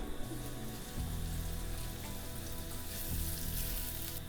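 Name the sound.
onions frying in oil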